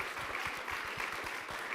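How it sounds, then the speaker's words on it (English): An audience at a youth and family advocate summit applauds a student panel, a dense, steady wash of clapping that holds at an even level for the whole stretch. "if you could give them a standing applause, please"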